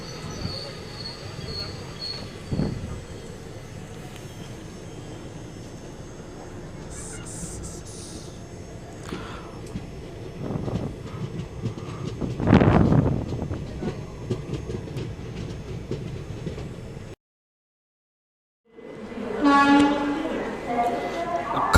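A train pulls out of Palasa railway station in Andhra Pradesh, its wheels clattering and squealing on the rails with a horn rising midway, then a brief hush before rolling noise returns; talk can be heard faintly over it.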